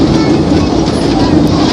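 A roller coaster train rumbles along its track at close range, a loud, continuous low roar with a steady rattling texture and no distinct clicks or talking.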